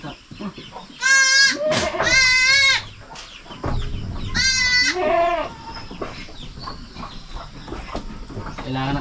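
Newborn goat kid bleating on a farm, several long wavering cries in two bursts, close and loud, with quieter rustling and background sounds between calls.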